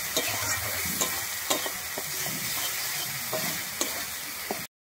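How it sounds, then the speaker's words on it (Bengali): Ground ginger spice paste frying in a pan for a banana flower dish, a steady close sizzle broken by repeated spatula scrapes and knocks, then cutting abruptly to silence. "আমি বেটে রাখা মশলাটা দিয়ে কিন্তু ভালোভাবে কষিয়ে নেব"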